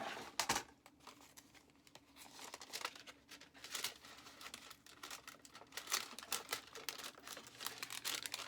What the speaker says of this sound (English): just open that envelope up